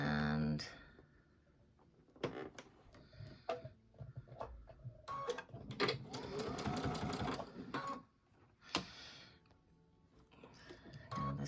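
An embroidery sewing machine stitches in short rapid bursts of mechanical rattling, close and clear, separated by pauses and clicks while a voice talks in between.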